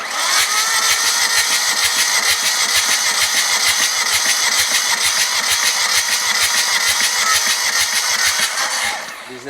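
Engine cranking steadily on the starter during a cylinder compression test with a gauge fitted in the injector ports, a loud, even rhythmic churn that runs several seconds before cutting off.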